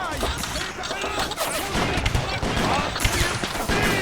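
Cannon fire in a Napoleonic war video game: repeated booming shots and crackling gunfire in a dense battle din, with a voice talking under it.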